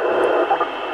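A CB radio running without its DSP filter gives off a dense, steady hiss of broadband static, loud and close, with slight fluctuations and no voices.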